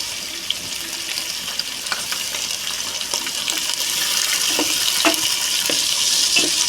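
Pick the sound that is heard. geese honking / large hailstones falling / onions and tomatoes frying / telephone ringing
onions and tomatoes frying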